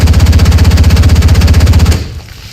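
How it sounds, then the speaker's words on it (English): Rapid automatic bursts from a 20mm cannon in War Thunder, a loud even stream of about twenty shots in under two seconds that stops abruptly and leaves a fading echo. "you can actually kill them with the 20mm cannon"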